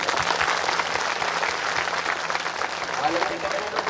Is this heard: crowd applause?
yes